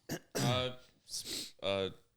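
A person with a lingering illness gives a few rough coughs and throat-clearing bursts in quick succession, close and fairly loud.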